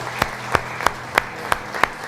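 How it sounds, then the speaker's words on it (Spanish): A church congregation claps for Jesus at a Portuguese-language service: six evenly spaced, sharp claps in a steady slow rhythm, fairly close and loud. "Você pode dar um aplauso para o Senhor Jesus?"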